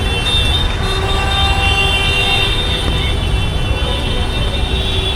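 Heavy road traffic near Kurla in Mumbai during downpour makes a steady loud rumbling wash of engines and tyres, with faint horn toots sounding now and then in the mix.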